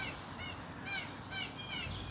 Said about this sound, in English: Them beautiful birds just flying everywhere.